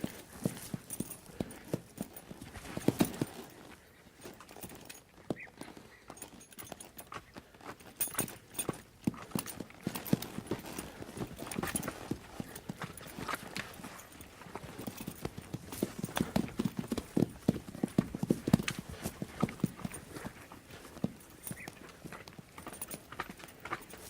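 Horse hooves clip-clop in an uneven walking rhythm, fairly close, with soft scuffs between the footfalls and no voices.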